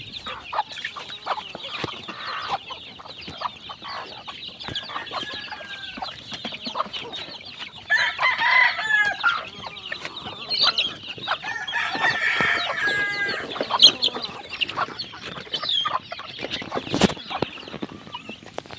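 A flock of chicks and chickens clucks and peeps busily over scattered feed in a small backyard coop. The chatter is constant and dense, with scratching and pecking throughout and one louder cluck near the end; no talking.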